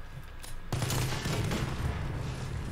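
A burst of rapid gunfire from a weapon in Call of Duty: Modern Warfare, Gun Game mode, starting with a sharp onset and rattling on loud and dense for a couple of seconds.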